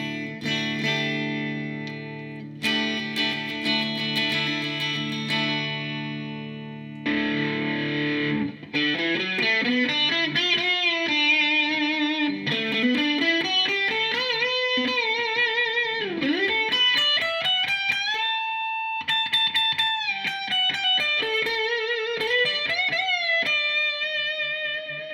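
An Eastwood LG150 electric guitar plays with moderate distortion: a held chord, then long sustained single notes bent and slid through a melodic line, loud and close with no voices.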